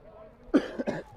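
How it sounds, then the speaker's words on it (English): Two short, close coughs in a row, one sharp bark followed by a slightly softer one, over a faint background hum. "sorry folks, I have a small cough"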